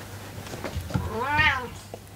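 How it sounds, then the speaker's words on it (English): A single drawn-out cat meow rising and falling, close and clear, preceded by a few soft clicks and rustles against a low hum. "Really sorry about the noise my cat is making."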